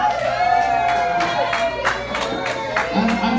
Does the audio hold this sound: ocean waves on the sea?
no